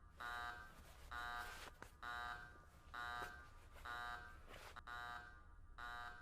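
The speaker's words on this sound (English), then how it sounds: "that beeping noise in the back" Electronic beeping repeats in regular bursts of roughly half a second, each followed by a short gap. It stays steady and moderately loud in the background, with no talking.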